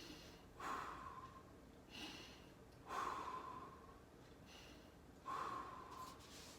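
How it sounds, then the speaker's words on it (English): Three deep breaths taken while lying face down in a core exercise routine, each a loud sharp inhale followed by a long fading exhale, evenly spaced and close, with no talking. "Take 3 big breaths."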